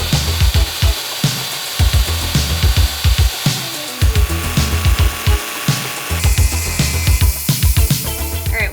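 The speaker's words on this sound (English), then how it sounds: "back to another sawing montage," Hand sawing of wood for RV stairs, a steady series of rhythmic back-and-forth strokes, close and loud, with brief pauses between bursts and no talking.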